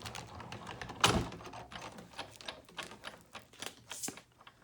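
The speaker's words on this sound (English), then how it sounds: "We're going to roll that through the big shot." Paper with an ink sheet is rolled through a Sizzix Big Shot embossing machine, giving a close run of clicking, ratcheting mechanical taps with one louder thump near the start.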